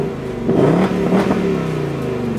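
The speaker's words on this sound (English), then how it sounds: "you can rev your car with nobody in it right here through the key fob" A 2024 Ford Mustang Dark Horse V8 revs by itself through the key fob's remote start, giving a close, loud engine blip that rises and then settles into a steady rumbling idle.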